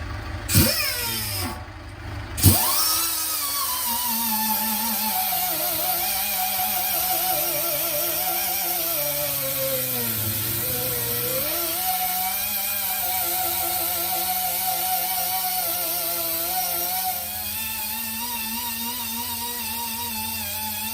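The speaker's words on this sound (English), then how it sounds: "So what I'm going to do now is buff this down and put a small universal patch on it." A power buffer grinds the inner surface of a 405/70/20 dumper tyre. After a few clunks it holds a continuous close whine whose pitch dips and recovers as the pressure on the rubber changes.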